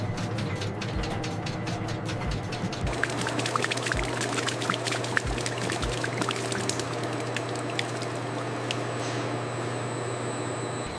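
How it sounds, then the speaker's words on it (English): Tomato juice in a ketchup factory running through fine sieves as pulp is separated out, a continuous dense splashing and trickling wash of liquid over steady machinery hum and intermittent clatter. "the mixture is passed through fine sieves. Smooth tomato juice is extracted while the pulp is discarded"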